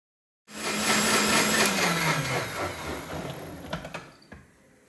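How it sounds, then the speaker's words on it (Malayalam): A kitchen mixer grinder whirs steadily as it grinds coconut into a paste, a loud continuous motor drone with a rattling, churning texture that winds down toward the end. "ഇതാ തേങ്ങയെല്ലാം അരഞ്ഞു വന്നിട്ടുണ്ട് നല്ലോണം പേസ്റ്റ് ആക്കിയിട്ട് തന്നെ അരച്ചെടുക്കുക"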